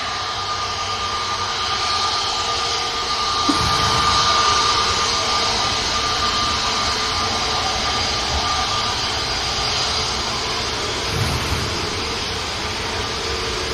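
An EasyJet jet airliner at Manchester Airport, its engines a steady broad roar held throughout at moderate distance, swelling slightly mid-way, with no talk over it.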